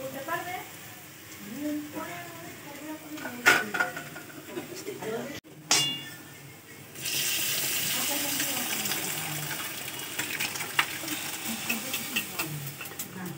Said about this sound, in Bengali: এবার আমি মটর সেদ্ধটা ওটা ঢেলে দেবো।